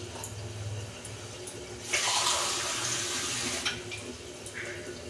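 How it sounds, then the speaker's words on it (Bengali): Water from a tap runs into a pot of soaked, washed peas in a short, splashing pour of about two seconds. Quieter kitchen sounds come before and after, and no one talks. "এই যে পরিমাণ মতো আমি জল দিচ্ছি।"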